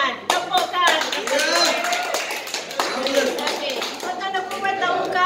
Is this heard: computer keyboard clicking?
no